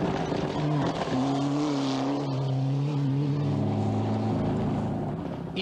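A 1996 Argentina Rally car on a final evening test run, its engine droning loud and steady with rising and falling harmonic tones as it accelerates, close and continuous throughout.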